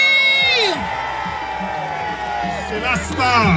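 A loud crowd cheers and whoops, voices shouting over one another in a lively burst of enthusiasm.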